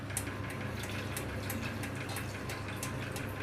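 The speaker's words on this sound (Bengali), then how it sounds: "এবারে মাংসে আমি জল দিয়ে দেবো" Water poured into a pot of browned chicken curry cooking with little oil and spice, a continuous splashing gush that stays loud and steady for the whole stretch with no voices.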